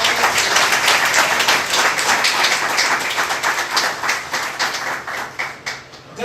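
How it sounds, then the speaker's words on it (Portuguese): A church congregation at Igreja de Nova Vida do Catete breaks into loud, dense applause, many hands clapping together at close range before the clapping gradually thins and fades toward the end. "Dê uma salva de palmas ao Senhor."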